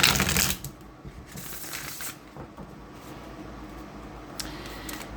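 A deck of tarot cards is riffled and shuffled, a loud burst of crisp flicking at the start and then softer continuous shuffling that keeps going.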